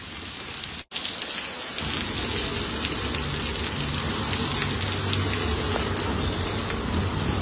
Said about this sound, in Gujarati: હવે જે વરસાદની જે ગતિ છે એ ધીરી થઈ ગઈ છે